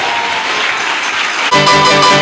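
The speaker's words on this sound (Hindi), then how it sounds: "आमीन के साथ जोरदार तालियां बजाएंगे।" Loud applause from a church congregation right after a closing prayer, dense clapping that swells and sharpens partway through and carries on to the end.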